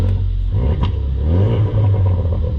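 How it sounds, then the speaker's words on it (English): A 2017 Ford Focus RS engine revs up close, a deep rumble rising and falling in pitch with a throaty roar, loud and continuous. "let's hear that engine, guys, a little bit too"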